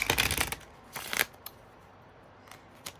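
A deck of tarot cards is split and handled close by: a burst of crisp riffling and rustling, another short shuffle, then a few faint taps and slides of the cards settling.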